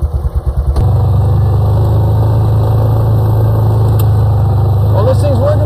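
A motorcycle engine idles close by with a steady low throb after a few uneven starting pulses, holding a constant loud drone while a voice briefly speaks near the end.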